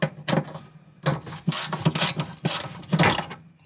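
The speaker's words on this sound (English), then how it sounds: "Little ratcheting screwdriver is handy" A Klein multi-tip ratcheting screwdriver clicks and ratchets in uneven bursts, close and crisp, while driving a screw, with short pauses between the runs of pawl clicks.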